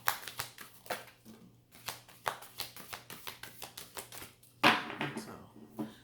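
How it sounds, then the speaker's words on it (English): Oracle cards shuffled by hand during a pick-a-deck reading, giving rapid papery riffles and taps in quick bursts with short pauses between, close and fairly quiet, with no talking. "And I'm going to shuffle 3 times, and whatever comes out,"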